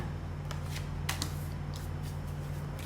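Tarot cards are shuffled close by in quick, soft riffling flicks, several brief crisp snaps over a faint steady hum, with no talk.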